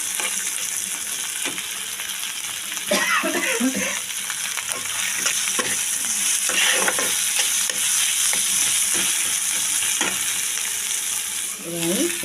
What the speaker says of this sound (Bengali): বেগুনটা দিয়ে ভালো করে একটু ফ্রাই করলে